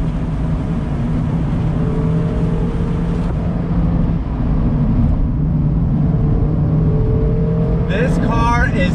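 A 2019 Mazda MX-5 Miata Club pulls away from a dead stop, its engine note climbing steadily through a gear with a rising shift near the end, heard from inside the cabin.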